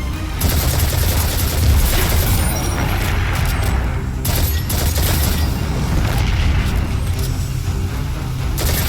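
A grenade blast and sustained gunfire in the shooter video game Destiny 2, a loud, dense wall of booms and rapid shots running without a break, with no talk over it.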